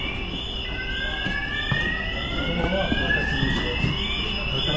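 A CO2 alarm sounds during a volunteer Dutch firefighters' call-out, a loud, steady high electronic tone that holds throughout with sliding pitch sweeps layered over it, while people talk nearby.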